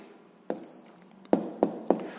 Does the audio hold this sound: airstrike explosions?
no